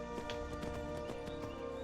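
A horse's hooves clip-clop in a steady rhythmic trot in Skyrim, close and moderately loud against a faint ambient game soundscape.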